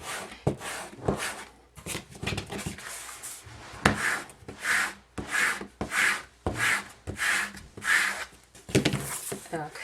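Flock backing is scraped off a rhinestone hoodie in repeated rhythmic rubbing strokes, close and fairly loud, with a voice speaking near the start.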